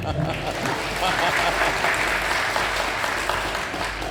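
Sustained applause from an audience at a community meeting, steady clapping filling the room at moderate loudness, with some voices mixed in.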